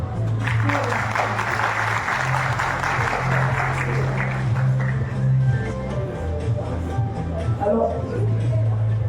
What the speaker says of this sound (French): on vous demande des applaudissements